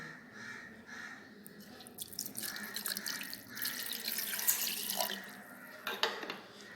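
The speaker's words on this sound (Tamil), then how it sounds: "இதில் நம்ம ஐஸ் வாட்டர் ஊற்றிக்கலாம்." Ice water splashes from a tap-like stream into a blender jar for Tirunelveli-style lemon juice, a steady pour with brief irregular drips and splashes, close and fairly quiet.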